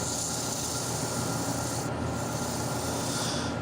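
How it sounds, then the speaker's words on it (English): A wooden vase spinning on a lathe is sanded with 220-grit sandpaper, giving a steady, continuous rasping rub over a low machine hum, close and unbroken, with no talking. "If I turn the lathe speed down, the sandpaper will follow the shape of the vase"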